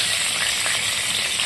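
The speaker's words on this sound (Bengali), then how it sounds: "এবার আমি এতে 2টো গোটা শুকনো লাল লঙ্কা, 2টো তেজপাতা আর 2টো কাঁচা লঙ্কা দিয়ে দিলাম।" Dried red chillies, bay leaves and green chillies hiss in hot oil for a Bengali curry, a steady close sizzle with faint crackle throughout and no voices.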